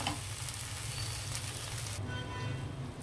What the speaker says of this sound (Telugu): ఇదిగోండి, ఆయిల్లో ఇలాగా 2 నిమిషాలు మగ్గితే సరిపోతుంది అనమాట.